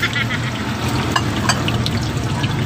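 Tilapia fries in very hot cooking oil with a dense, steady sizzle and crackle, loud and close with scattered pops throughout.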